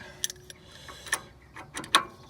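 A wrench clicks and ratchets while tightening the stabilizer link nut on a Golf 7, making quiet, irregular metallic clicks spread across a few seconds with no speech.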